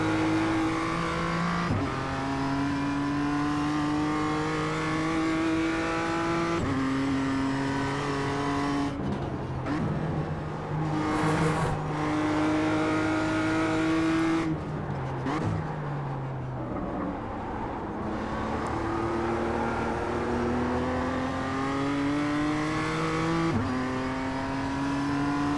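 Race cars roar through a track in a racing video game, engines sustaining a loud, continuous whine that climbs steadily with each upshift, dipping briefly under braking into corners before surging again as other cars bunch close.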